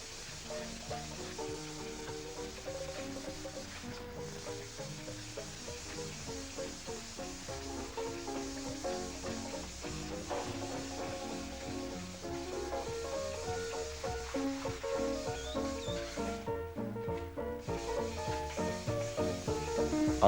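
Steady rhythmic scratching of sandpaper worked by hand over hardened car body filler on a repair panel, close and continuous, with repeated back-and-forth strokes slowly growing a little louder.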